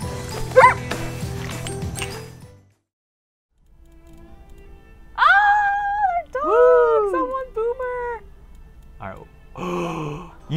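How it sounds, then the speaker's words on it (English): Dog barking and yelping in the Far Cry 5 video game: a short burst of barks, a pause, then several loud howling yips and whimpers, with a voice speaking over the start. "Get this dog off of me!"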